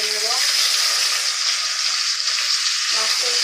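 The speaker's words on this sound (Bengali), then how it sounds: "মাছের এক পাশ ভাজা হয়ে গেছে, এবার আমি একইভাবে অপর পাশটাও ভেজে নেব।" Koi fish shallow-fries in hot oil, a dense, even crackling sizzle held close and loud throughout, with a faint voice murmuring in the background near the start and end.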